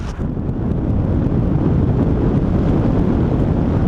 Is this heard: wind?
yes